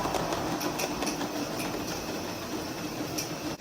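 A train runs past Whitsun Bridge with a steady, fairly loud rumble and regular clickety-clack of wheels over rail joints, continuous throughout.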